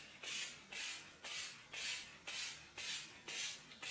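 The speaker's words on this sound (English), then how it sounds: "Make sure you give a good old spritz all over the face" NYX Matte Finish Setting Spray is spritzed over the face in seven quick, evenly spaced hissing bursts, each a crisp, airy puff, close and alone.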